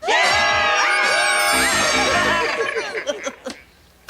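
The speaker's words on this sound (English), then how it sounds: "Good screaming, everybody." A crowd screams, whoops and cheers loudly for about three seconds, the noise then breaking up into scattered shouts and trailing off before a final burst at the end.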